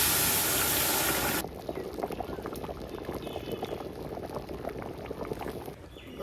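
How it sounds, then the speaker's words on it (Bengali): Dal (lentils) poured into a hot pan of rice and ginger. A loud rushing pour gives way to steady bubbling and sizzling that continues close up, with no talking. "এখন আমি ডাল দিয়ে ঢেলে দেবো।"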